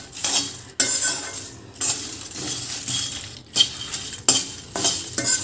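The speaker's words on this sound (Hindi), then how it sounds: "ये देखिए कितनी अच्छी आवाज़ आ रही है क्रैकलिंग की, यानी ये अब हो गए हैं।" Spices dry-roasting in a pan at home for a masala blend, giving a steady crackling and scraping sizzle with stirring and utensil clatter, close and fairly loud, with short pauses between bursts.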